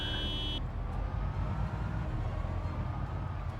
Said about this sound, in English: I'm just gonna beep it a beep it a beep.